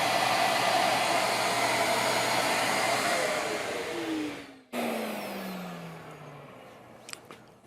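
Broadband whine of a CNC spindle engraving a custom cutting board, steady and loud, then a tone sliding downward as the spindle winds down, a brief cut to near silence, and a few small clicks at the end.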